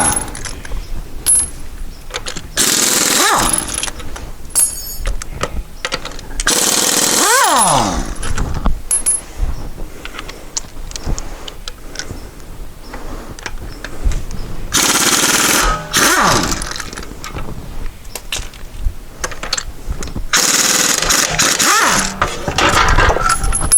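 Impact wrench spinning off 19 mm wheel bolts on a VW Touareg in a garage, several loud rattling bursts separated by clinks of bolts and sockets and quieter shop handling noise.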